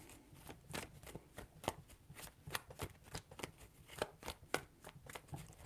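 Tarot cards are shuffled close up in a quiet room, a quick run of crisp riffling flicks in an uneven rhythm, soft and clear with no talking.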